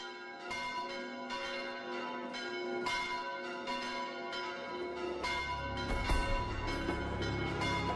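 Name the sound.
church bells ringing for Sunday mass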